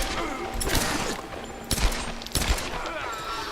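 Gunfire in the Tomb Raider video game: a run of rattling shots with a few heavier, punchy reports standing out, set against a busy game soundscape with other effects mixed in.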